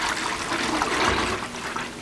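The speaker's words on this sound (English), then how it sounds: "we're going to go ahead and pour our consistency here into our gallon jug" Liquid clay detox mixture pours into a gallon jug as a continuous close, splashy stream of liquid that lasts a couple of seconds, with no voices.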